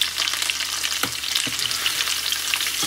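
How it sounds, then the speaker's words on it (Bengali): Squash and potatoes frying in a pan give a steady close sizzle, broken by a few sharp scrapes of a spatula stirring, with no talk over it. "আর এখানে স্কোয়াশ দিয়ে আলু দিয়ে ভাজা করছি।"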